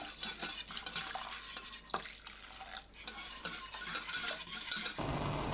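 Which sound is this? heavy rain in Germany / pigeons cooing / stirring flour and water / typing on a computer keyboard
stirring flour and water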